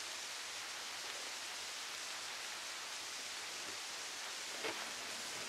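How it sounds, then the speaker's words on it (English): Steady, even hiss of rain beginning to fall in woodland, a soft continuous wash with no clear individual drops, faint and distant, with one brief small tap near the end. "it's starting to rain."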